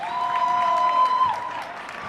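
A high school basketball crowd cheers and applauds after a block in an MIAA tournament semifinal between Cohasset and Bristol Plymouth. A loud, sustained roar fills the whole moment.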